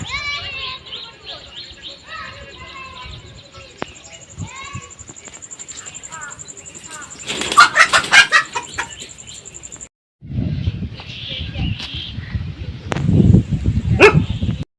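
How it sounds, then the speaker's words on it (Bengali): Chickens cluck among pigeons at a mangrove tourist centre in Debhata, Satkhira, close and moderately loud. A dog barks partway through, and after a brief drop-out a louder rumbling, noisy stretch follows. "এই পর্যটন কেন্দ্রে আছে কিছু উন্নত জাতের মুরগি এবং কবুতার"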